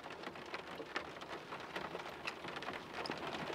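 Soft, steady rainfall pattering on a surface, with scattered distinct drops ticking through the quiet hiss.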